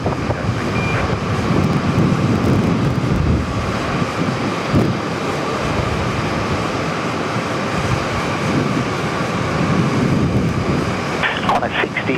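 A Qantas A380 departing from Sydney Airport, a loud sustained low roar with wind buffeting on the microphone, continuous for several seconds, with voices partly audible over it.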